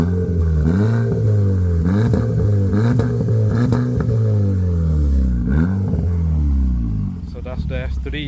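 Audi S3 with a DSG gearbox revs repeatedly, its engine pitch rising and falling in several loud, close sweeps before settling; a voice talks briefly near the end.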